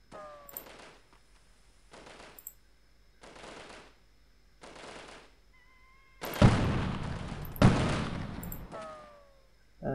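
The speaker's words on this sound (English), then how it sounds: "I wonder where the shots are coming from." Gunfire in the shooter game Delta Force, with scattered soft shot bursts early on, then two loud heavy volleys near the end over a quiet background.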